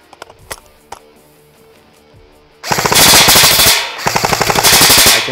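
Classic Army Nemesis airsoft replica firing in full-auto: a few scattered single clicks first, then two loud sustained rattling bursts of rapid shots, close to the listener.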